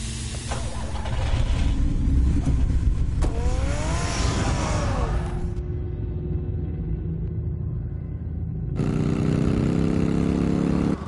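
A car engine in a Batman video game starts and revs up, then drives off, with the engine note rising and shifting over a steady rumble; the car stays loud and close throughout.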